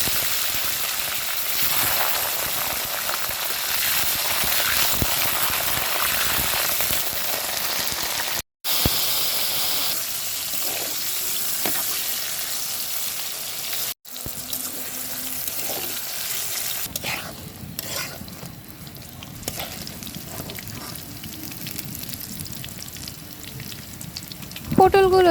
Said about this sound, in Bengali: এখন আমি পটল ভাজবো